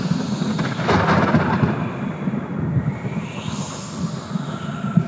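Stage thunder rumbles through a storm scene in a theatre play set in ancient Egypt, a low, rolling roar with a sharper crack near the start, sustained and fairly loud with no talk over it.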